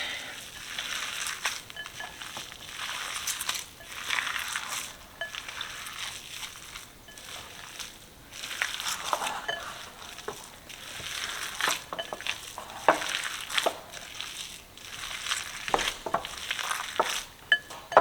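Ground meat for Italian meatballs being broken up and mixed by hand in a bowl, giving continuous close, soft squishing and scraping with irregular bursts and occasional light clinks, with no clear talk.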